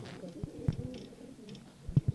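Sendhe breed pigeons raised at home coo softly in short, low bursts, with a few separate calls spread across a quiet background.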